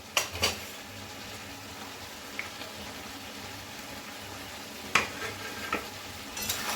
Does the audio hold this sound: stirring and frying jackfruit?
yes